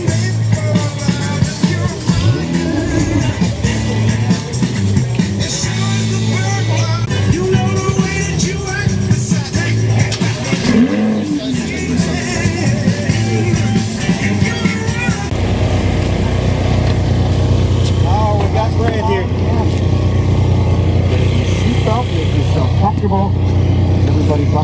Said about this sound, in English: That car sounded insane.